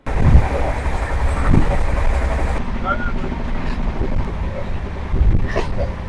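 Indian passenger train with general and chair-car coaches running on rails, a loud steady rumble with rhythmic clatter of wheels over joints, heard from on board alongside talking voices.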